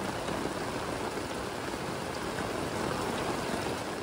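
Steady rain falling on a rainy morning at an RV rally, a dense even hiss of drops on surfaces, constant and close with no voices.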